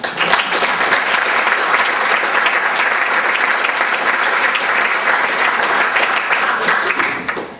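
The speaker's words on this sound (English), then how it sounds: "Please join me in a round of applause for everyone." An audience at a senior sports banquet gives a steady round of applause: dense, sustained clapping from many hands that holds evenly before tapering off at the end.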